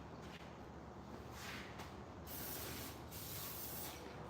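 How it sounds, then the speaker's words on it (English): Brake cleaner sprayed around the valve body of a Subaru wagon's transmission, heard as close, loud hissing bursts that start and stop several times in a few seconds. "We want to keep things as clean as possible, so get some brake clean and"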